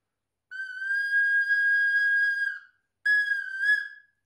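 A clear, steady whistle-like tone from a recorder head joint blown alone, sounded twice: a long two-second note, then a shorter one after a brief pause, bright and breathy with no talking.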